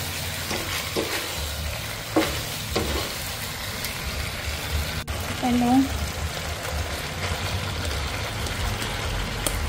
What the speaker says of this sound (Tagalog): Tapos dahan-dahan lang sa paghalo para hindi magwasak-wasak.